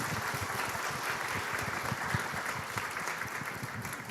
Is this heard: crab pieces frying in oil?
no